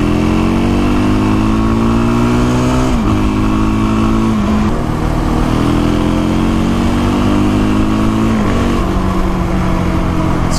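Suzuki LTZ quad bike engine revving hard and accelerating, the pitch climbing and dropping back at each of several gear shifts, loud and close throughout.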